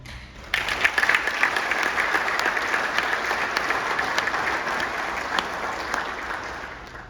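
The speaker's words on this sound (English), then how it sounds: "I'm happy you clapped." A large audience at a meeting between Ghana's president and the CEOs of state entities breaks into sustained applause. Loud, dense clapping starts abruptly after a brief lull and continues steadily to the end, with no talk over it.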